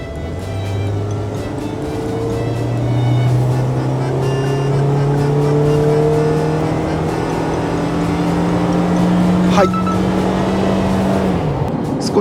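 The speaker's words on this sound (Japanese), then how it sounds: "今から本線に合流しますんで、40キロから80キロまでフル加速します。" A small camper van accelerates flat out from 40 to 80 km/h while merging onto a highway, its engine note climbing steadily through the gears, loud and continuous from inside the cab with no voices.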